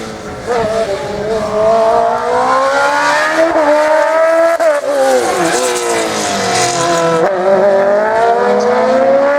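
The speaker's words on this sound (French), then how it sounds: "son pilotage généreux avec ce silver car" A silver race car at a regional slalom in the Pays d'Ancenis, its engine revving loudly and close with rising and falling pitch through gear changes and turns, plus brief tire noise, running continuously without talk.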